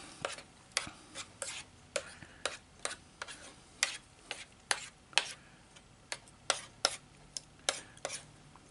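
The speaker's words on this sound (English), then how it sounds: "Let's give that a stir." A spoon stirs MRE beef stew in its pouch or container, making a steady series of crisp ticking scrapes at a regular pace, close by and fairly quiet, with no talk.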